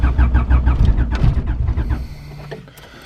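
A 2022 Honda Civic running on E85 cranks in the snow and fails to start, after a recent starter solenoid replacement. The starter turns over loudly and rhythmically for about two seconds, then stops and the engine stays quiet.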